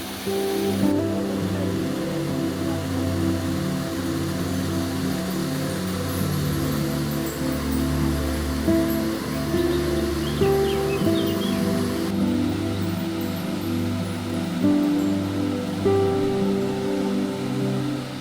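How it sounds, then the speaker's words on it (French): An Auvergne waterfall spilling over stepped volcanic basalt ledges, a constant dense rushing roar of water, close and loud with no pause. "L'eau suit les ruptures naturelles du basalte en plusieurs paliers."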